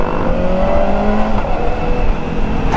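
A Kawasaki ZX4RR motorcycle engine revs loudly and close, its auto-blip quick shifter shifting the pitch in quick steps as the tone rises and falls, with no talking.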